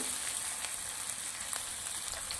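Onions sautéing in ghee in a pan for chole onion fried rice, an even, moderately quiet frying sizzle that carries on without pause, with faint stir clicks and no voices.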